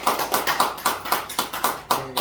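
A church congregation claps to welcome a visiting pastor, with about eight evenly spaced, unison claps in a steady rhythm over roughly two seconds.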